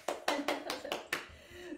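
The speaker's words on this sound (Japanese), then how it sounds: "はい、拍手" Around six quick hand claps in a steady rhythm during a stretching exercise routine, close and fairly crisp, with a faint tonal hum beneath them.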